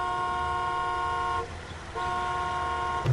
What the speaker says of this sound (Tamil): ஹாரன் சத்தம் கேக்குறது